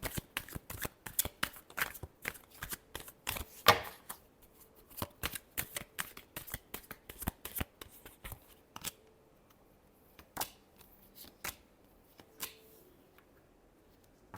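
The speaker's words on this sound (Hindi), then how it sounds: "last shuffle" Tarot cards shuffled by hand in a run of crisp riffling bursts and ruffles, close and fairly quiet, with short pauses between rounds and no talking.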